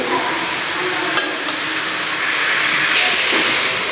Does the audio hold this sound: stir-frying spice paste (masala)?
yes